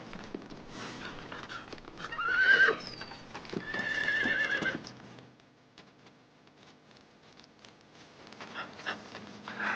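A horse whinnies loudly and repeatedly amid clopping hooves and rustling, in a drama scene set in ancient China; the calls peak early, then quieter hoof and movement noise continues.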